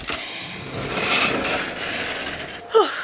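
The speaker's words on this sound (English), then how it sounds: "Let's open all the doors up." Doors opening near a beach walk in Positano, with a rubbing, creaking mechanical scrape followed by a short sharp squeak of a hinge or latch near the end, close and fairly loud.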